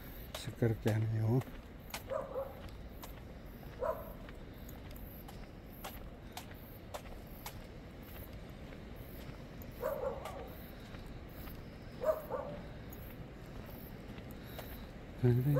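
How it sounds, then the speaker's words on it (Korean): A small dog barks noisily outdoors on a mountain hiking trail, a few sharp yips near the start and scattered barks later, over steady background hiss and faint rustling. "또 강아지가 시끄럽게 하네요."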